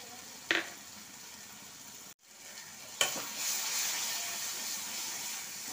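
Cumin powder fries for egg curry with a soft, even sizzle and hiss. A stirring scrape comes early, the sound cuts out briefly, then the frying returns louder after a sharp knock on the pan.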